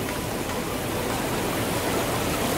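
Fast-flowing shallow water current at Pelabuhan Ratu, a steady close rushing and splashing wash that holds evenly throughout with no voices.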